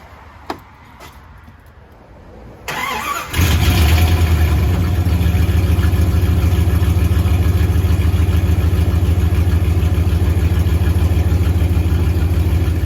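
A 1999 second-generation Dodge Ram diesel engine starts and settles into a loud, steady idle, a continuous low rumble that carries on evenly without revving.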